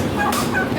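Chickens kept at a home cluck close by in a quick burst of short, bright calls lasting under a second, with no talking over them.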